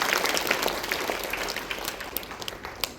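Students and staff at a junior-class morning school assembly give a big round of applause, a dense, even wash of many hands clapping at moderate distance, steady throughout with a few sharper claps near the end.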